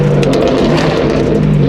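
BMW E92 M3 engine revving loudly up close, a dense, sustained roar holding steady through the short burst, with no talking.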